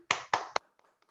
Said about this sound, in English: Unmute for a few seconds and applaud our way out for everyone here today